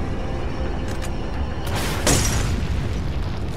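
A single loud, booming gunshot from Resident Evil 4 bursts out midway through the steady rumble of game sounds, with smaller clicks and thuds before it.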